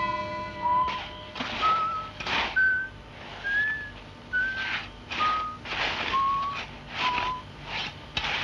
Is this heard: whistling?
yes